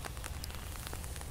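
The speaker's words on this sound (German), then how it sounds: "Hier, es regnet und ich stehe gerade vorm Schloss Nordkirchen." Rain falls steadily outside Nordkirchen Castle, a dense, even patter of drops close by with no voices.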